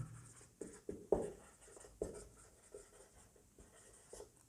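Pen writing out a coordinate geometry solution on paper for a class IX math problem, a soft scratchy stroke sound with several sharper taps, close and quiet, with no talking.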